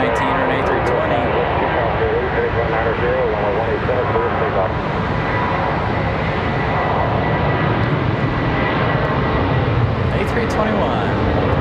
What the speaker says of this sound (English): sounds like we got an A319 or an A320